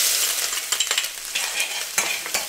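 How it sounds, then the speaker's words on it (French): Garlic and chili hitting hot oil in a wok give off a loud, steady sizzle, with brief spatters and clicks of stirring scattered through it. No one speaks. "On va verser l'ail et le piment."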